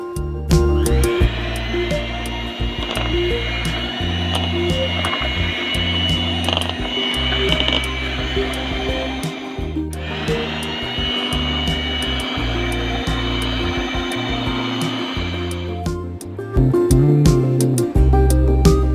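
An electric mixer beats butter with brown sugar for a plum cake, running as a loud steady motor whine for about fifteen seconds, with a brief pause partway through and a stop near the end, no talking.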